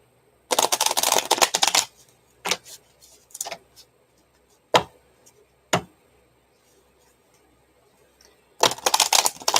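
Tarot cards are shuffled in quick riffling bursts, with a long burst at the start, a few short sharp flicks in between, and another burst at the end.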